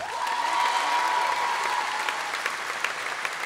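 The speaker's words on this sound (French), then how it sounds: "Applaudissez-la bien, c'est Thaïs Gaillard." A crowd at a Kids Voice Tour final at the Stravinski hall in Montreux applauds the finalist, filling the room with dense, sustained clapping and a held musical tone underneath that fades partway through.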